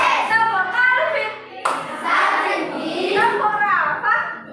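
Children in a classroom clap along in a rhythmic clapping game, a burst of hand claps mixed with young voices chanting and talking throughout.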